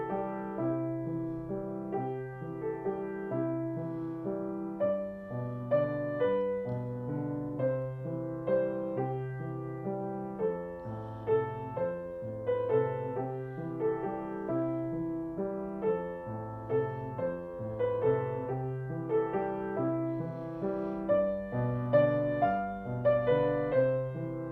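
Piano arrangement of the Christmas carol Silent Night, with a steady bass line under chordal melody notes, played at an even moderate pace and fairly soft throughout.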